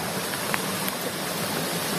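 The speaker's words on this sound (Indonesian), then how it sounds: "Nah, ini ada sungai kecil nih." A small river in Bukit Barisan Selatan National Park, Indonesia, flowing steadily with a broad, even rushing wash, close and continuous without talk.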